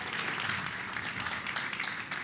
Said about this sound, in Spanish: Fuerte aplauso para recibirlos.